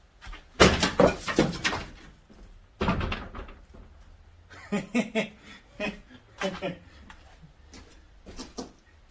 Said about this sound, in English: Let's see if we can't make a dent in the war door.